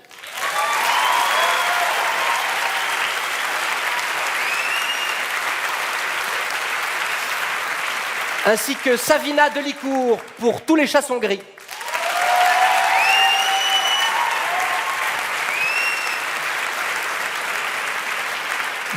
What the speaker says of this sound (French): Je voudrais donc faire applaudir plus que sérieusement les frères Malandrin